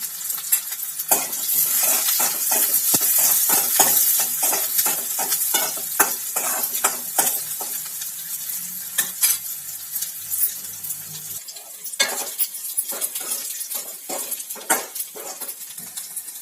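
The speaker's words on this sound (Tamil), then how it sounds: "இப்போ வெங்காயம் நல்லா வதங்கிடுச்சு" Chopped onion and garlic sauté in oil for a manathakkali greens stir-fry, with a continuous close sizzle broken by repeated scraping stirs of a spoon against the pan, and no talking.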